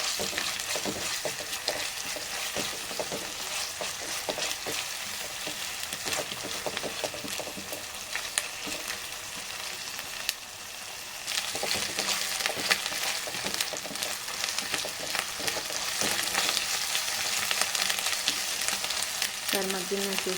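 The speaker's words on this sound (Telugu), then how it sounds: "అల్లం వెల్లుల్లి పేస్ట్ వేసుకోవాలి. దాని పచ్చివాసన పోయేదాకా తిప్పుకోవాలి." Ginger garlic paste frying in a pan with steady sizzling and crackling, overlaid by repeated scraping of a spatula as it is stirred, close and continuous.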